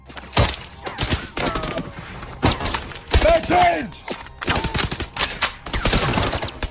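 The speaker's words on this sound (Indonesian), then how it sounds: "tiba-tiba mereka dikepung oleh pasukan Digton hingga terjadilah tembak-tembakan" Gunfire in a film shootout where a group is surrounded by troops, with sharp, loud bursts of shots and crashing impacts coming in rapid clusters, and shouted voices in between.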